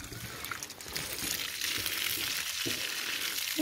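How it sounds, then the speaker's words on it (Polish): Water runs steadily out through a siphon hose draining a tank without a pump, a continuous hissing trickle and splash heard close, with no talking. "jak ten wąż tutaj sobie bierze i ta woda leci"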